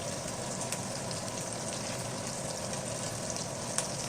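Fish frying in hot oil with curry leaves for a crispy hotel-style fish fry, a steady, dense sizzle and crackle with a few sharper pops.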